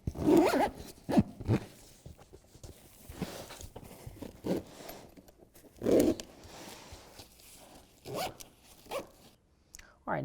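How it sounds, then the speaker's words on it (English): Zipper pulls close a BedRug bed liner on a 2016 Toyota Tacoma, heard as several short, sharp zipping bursts spread across the stretch, with some handling noise and a quiet gap between them. "get that in, and then we can start zipping that up"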